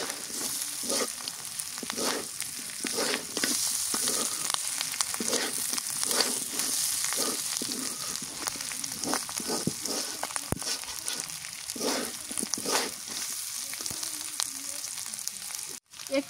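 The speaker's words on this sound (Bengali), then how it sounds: "দিয়া পরে আবার ভাজা ভাজা করে নিই" Bottle gourd greens frying in oil in a village kitchen, a continuous loud sizzle with rhythmic stirring scrapes running throughout, no talking.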